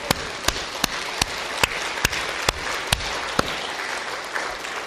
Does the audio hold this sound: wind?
no